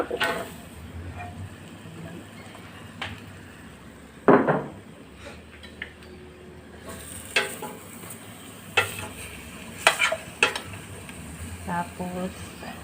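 Papaya pieces dropped into a pot of simmering chicken tinola and stirred, giving a few loud clunks and scrapes over a soft sizzle, with quiet talk now and then.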